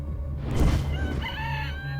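A rooster in the video game The Walking Zombie crows once, loud and close, rising from a rough onset into a long strained call over a steady low hum.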